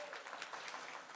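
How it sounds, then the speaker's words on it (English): Audience applause at a convention mainstage variety show, a dense wash of many hands clapping. The clapping is steady and sustained, moderately loud, and fills the whole moment with no voices over it. "Oh, applause."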